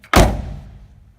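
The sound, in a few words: door of 1978 Datsun 280Z closing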